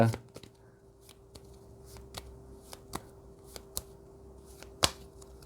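Tarot cards being shuffled and drawn give a series of crisp, sharp card snaps and flicks spaced irregularly over several seconds, fairly close and quiet, with a voice speaking softly underneath.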